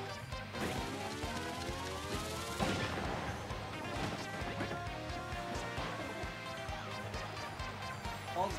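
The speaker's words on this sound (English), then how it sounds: "that bomb's about to explode" A bomb goes off in Paper Mario: The Thousand-Year Door, a loud crashing burst around the middle over a busy game music soundtrack that keeps playing throughout.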